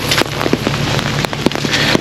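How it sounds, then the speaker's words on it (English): Steady rain pattering on surfaces outdoors near a house under remodeling, a dense close hiss with scattered sharper drop taps throughout, no talking. "Try to get right, but it's raining."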